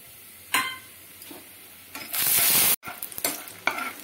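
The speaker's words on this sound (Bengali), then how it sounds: "এখন তেলটা গরম হয়ে গেছে, যে বড়িটা রেখেছিলাম বড়িটা আমি ভেজে নেব।" Bori, small lentil dumplings, fry in a pan of hot mustard oil, giving scattered sharp crackles and pops that swell into a loud, steady sizzle before cutting off abruptly, then resuming with more close pops.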